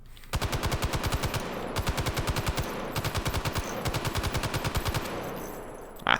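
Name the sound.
M60 machine gun firing in the video game Hot Dogs, Horseshoes and Hand Grenades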